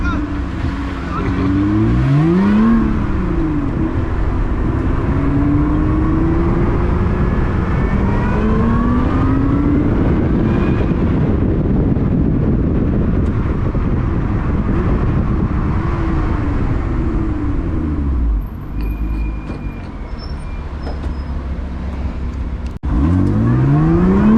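A Lotus 3-Eleven sports car drives through the city streets of Eindhoven on a cold day, its engine close and loud throughout, with revs rising and falling in repeated sweeps as it accelerates and eases off.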